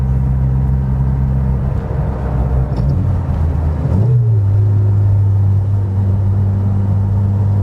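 A turbocharged 300+ bhp Peugeot 205 GTI engine drones loudly and steadily, then swells around the midpoint into a deeper, stronger rising roar as the turbo comes in and holds, close and dominant, no talking.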